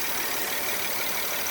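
A 2012 Volkswagen Passat's 3.6L V6 engine idles smoothly after starting, a steady close broadband hum with no voices.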